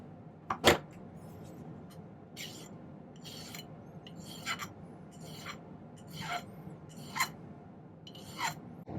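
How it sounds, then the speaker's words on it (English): A metal file rasps on silver wire in a series of short, scraping strokes at a steady pace, each stroke close and distinct, preceded by one sharp click. "to make it easier to file one side or the other, smooth"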